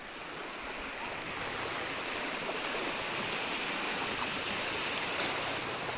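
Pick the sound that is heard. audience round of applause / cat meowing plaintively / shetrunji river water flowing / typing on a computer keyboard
shetrunji river water flowing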